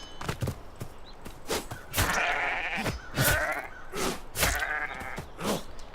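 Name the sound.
sheep bleating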